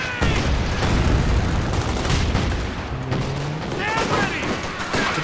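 Dense machine gun and rifle fire crackles through a competitive video game match, with booming impacts underneath and a commentator talking over the din throughout.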